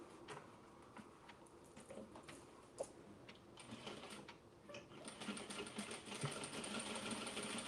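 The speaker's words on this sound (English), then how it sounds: "And let's get back to sewing." Sewing machine stitching the side seams of an oversized denim tote, rapid mechanical needle chatter in short bursts and pauses, close and fairly quiet, with light handling clicks between runs.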